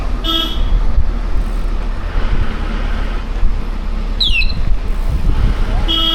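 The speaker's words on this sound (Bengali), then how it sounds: "এই পেছনে ট্রাক আছে রে সাইডে যা" A truck horn toots behind a moving vehicle on a rural road near Baktarpur, with short horn bursts over a constant rumble of engine and road noise and no speech.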